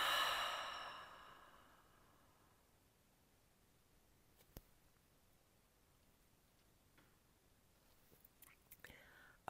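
Slow, deep breath released through the mouth during a relaxation breathing exercise, a soft airy exhale that fades over a few seconds into near silence, broken by a couple of faint clicks.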